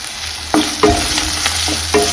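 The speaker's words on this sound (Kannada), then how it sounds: "ಇದು ಚೆನ್ನಾಗಿ ಫ್ರೈ ಆಗಲಿ." Onion frying in oil in a pan for egg rice, a steady close sizzle with a spoon scraping and stirring through it several times, no talking.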